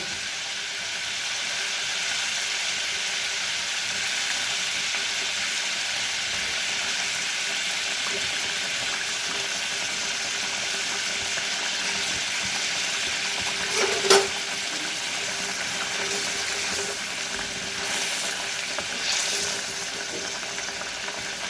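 Pabda fish simmers in a spicy gravy with a steady, loud sizzling hiss that holds evenly throughout, broken by a single brief clink midway.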